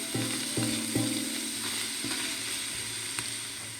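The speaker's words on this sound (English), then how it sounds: "stir this up in here. Get it cooking, getting it brown." Italian sausage sizzles steadily in a pot for a soup, with several sharp scraping knocks as a utensil stirs it.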